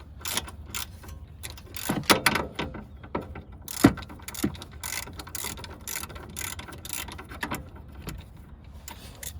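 A ratchet tightens a suspension bolt while fitting coilovers on a Honda Civic, bursts of quick clicking pawl strokes with brief pauses and a few metallic knocks, close and alone without speech.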